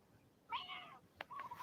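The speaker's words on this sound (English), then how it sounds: "I can hear the cat." A cat meows indoors, quiet and a little distant: one drawn-out meow, then a short sharp cry and a shorter trailing meow, with no voices over it.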